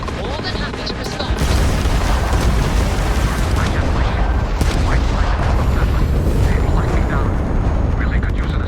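Spaceship weapons in Starfield fire at the player's ship, producing heavy continuous booming blasts and sharp bursts under constant roar, with voices talking throughout.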